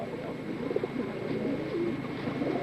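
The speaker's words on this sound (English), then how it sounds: "Nice pigeon, little hen." Soft, repeated cooing of a blue check pigeon hen with bronzy inner wing, a low rolling murmur that pulses steadily throughout at moderate distance.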